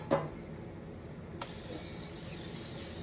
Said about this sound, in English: going to go ahead and spray that down.